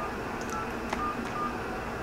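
A quick series of telephone keypad dialing tones while calling DirecTV / AT&T customer service, short beeps in an uneven sequence over a faint background hum.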